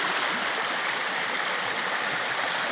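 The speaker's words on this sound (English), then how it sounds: "Oh, I can hear the river now, so that's good." A river runs through a New Zealand red deer hunting area, its water rushing in a steady, even broadband wash that stays constant and fairly close, with no voices.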